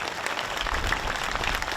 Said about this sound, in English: I want to give Chet a round of applause today, who does so much for this event.